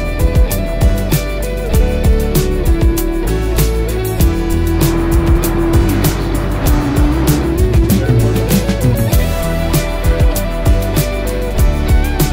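A pickup truck built up as a DIY camper drives through rush-hour traffic in Germany's Ruhr area, giving a steady, loud engine and road drone with passing traffic that holds for the whole stretch.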